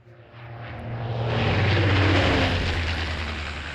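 A propeller transport plane in the PUBG video game drones overhead, swelling from quiet to a loud, steady roar that peaks in the middle and then holds.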